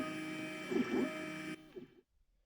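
An AlgoLaser Pixi laser engraver gives off a faint tonal hum with soft stepping motor whirs while engraving, then cuts off abruptly to near silence.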